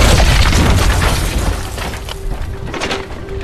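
A thrown fire explodes in a loud, rumbling boom with shattering debris that slowly fades over a few seconds, with no voices.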